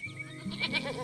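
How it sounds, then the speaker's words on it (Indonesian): A white goat in a pen near a red barn gives one short wavering bleat, fairly faint and nearby, over a quiet farmyard background. "Lihatlah kambing putih yang lucu berada di dalam kandang dekat bangunan barn merah"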